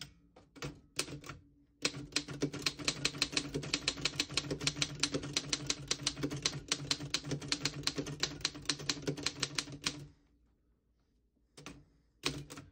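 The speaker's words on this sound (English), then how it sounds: "all the keys type nice and none of them skip or stick. I'll type a sentence on the next line." A 1913 Underwood No. 4 antique desktop typewriter typed steadily at close range: a rapid run of sharp mechanical key strikes lasting about eight seconds, framed by a few isolated clacks before and after a brief pause, with no speech.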